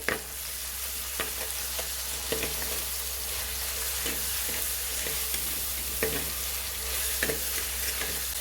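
Ginger garlic paste fries in hot oil for chicken biryani, a steady close sizzle broken by occasional scraping stirs, with no one speaking.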